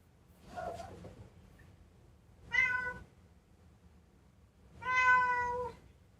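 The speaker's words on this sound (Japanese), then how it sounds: "猫様が鳴いております。" A house cat meows three times at spaced intervals, the later calls longer and more tonal, close and clear over a quiet room.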